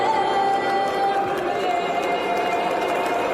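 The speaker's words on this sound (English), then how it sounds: "Started booing the anthem" A large hockey arena crowd in Ottawa boos the U.S. national anthem, a sustained, even roar of many voices with no clear breaks.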